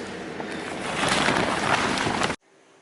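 A Harbor Freight paint sprayer run at about 60 psi sprays primer onto an LMTV truck frame, giving a loud steady hiss that swells and then cuts off abruptly.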